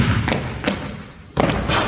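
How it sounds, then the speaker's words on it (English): A basketball bounces on an outdoor court ahead of a layup, giving a few dull, close thuds spaced apart over a steady outdoor background. "he's going to take one dribble, then he's going to shoot the layup"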